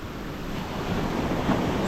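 Sea waves wash and surge steadily beside a boat while spin-fishing for bluefish on open water, with a continuous roar of surf and wind buffeting the microphone, a larger swell building toward the end.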